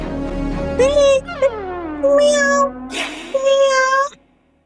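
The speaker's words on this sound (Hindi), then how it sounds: "बिल्ली है।" A cat meows repeatedly up close, long rising and falling cries in a loud, insistent series, then stops.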